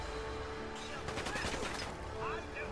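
Gunfire in the game Fallout 4, a quick burst of rapid shots mid-distance over a steady background of in-game ambience, lasting only a couple of seconds.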